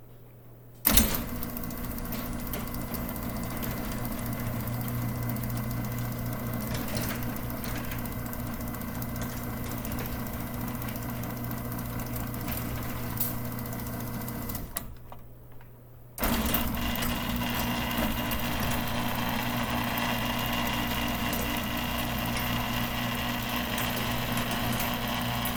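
An Overhead Door Legacy garage door opener runs with a steady mechanical whine and hum of motor and drive chain. It pauses briefly, then starts again, slightly louder and brighter on the second run.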